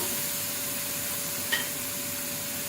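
700 grams of goat mutton sizzles in a kadhai with a steady, close frying hiss. A single brief stir or clink sounds midway, and a faint constant hum sits underneath.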